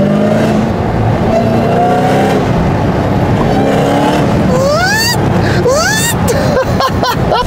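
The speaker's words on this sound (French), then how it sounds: "Et le compresseur, est-ce que vous entendez le compresseur?" Dodge Hellcat accelerating hard, its supercharger whining in rising sweeps above a loud, roaring engine, with pitch climbing through repeated gear pulls and a voice talking over it.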